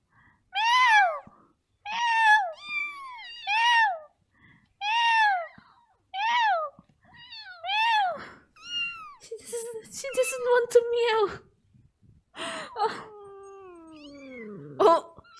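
A cat gives a string of drawn-out, rising-and-falling meows, close and fairly loud, separated by short pauses, while a human voice mimics meowing and coaxes it in between.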